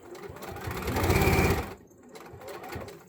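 Sewing machine top stitching a repair on a wrestling mask: a close, loud rapid run of stitching for about a second and a half, then a brief pause and a softer second burst.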